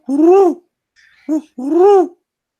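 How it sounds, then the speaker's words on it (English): A northern spotted swamp owl hoots in a swamp setting within a fantasy adventure: two long, loud, rising-and-falling calls bracketing a short, softer note, close and clear with no talk over them. "There's even an owl hooting at one point."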